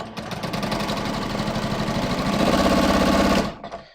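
A sewing machine runs a traditional straight seam on strippy fabric, a fast steady mechanical stitching rattle close by for about three and a half seconds before stopping abruptly.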